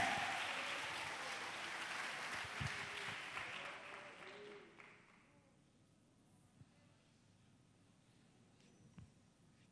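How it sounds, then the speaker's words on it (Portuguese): Church congregation applauding during a worship service, a broad wash of clapping that holds steady for about five seconds, then fades into quiet room noise with scattered faint claps and murmurs. "Aplaude, aplaude, porque é para ele"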